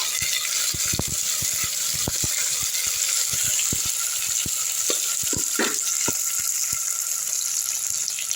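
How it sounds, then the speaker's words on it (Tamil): A handful of curry leaves sautéing for a chapati kurma, with a steady close sizzle of frying oil and scattered sharp pops and spoon taps against the pan. "ஒரு கைப்பிடி அளவு கருவேப்பிலை போட்டுக்கலாம் இதுவும் நல்லா வதங்கட்டும்"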